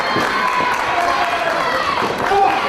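A wrestling crowd at a televised indoor show cheers and shouts continuously, a dense roar of voices with scattered clapping swelling toward the end.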